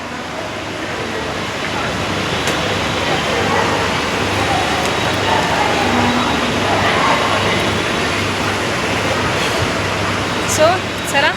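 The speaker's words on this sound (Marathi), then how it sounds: "चला ट्रेनमध्ये आलं" Steady broadband rumble and rush of a moving passenger train heard from inside near a window seat, continuous and fairly loud, with faint voices beneath the noise.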